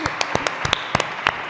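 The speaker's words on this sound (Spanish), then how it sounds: "Un aplauso para David." A small conference audience claps for a speaker after a talk on the right to the city. Sharp individual claps stand out from the room in an uneven, sparse patter over about a second and a half.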